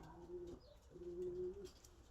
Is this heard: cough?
no